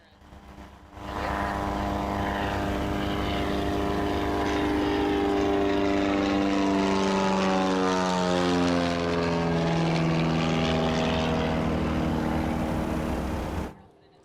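Propeller airplane flying low past the crowd at the 2022 Arkanstol STOL competition, a loud, steady engine drone with a slowly shifting pitch that sweeps past for about twelve seconds before cutting off.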